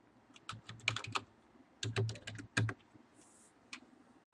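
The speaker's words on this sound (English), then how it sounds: "So I'll just type in my password." Fingers tapping out a password on a computer keyboard, in short quick bursts of key clicks separated by brief pauses, close and fairly quiet.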